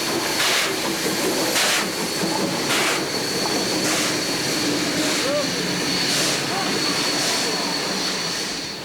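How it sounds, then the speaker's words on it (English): Mainline steam locomotive 34101 Hartland runs past a locomotive depot just south of a short tunnel, a loud steady rumble and roar with rhythmic chuffing beats recurring about every second throughout. "Once out of the short tunnel to the south of the station, Heartland passes the locomotive depot"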